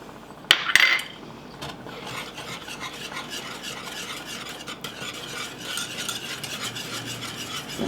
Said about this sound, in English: I'm going to mix it up a little bit because I don't want to let it set too long on the heat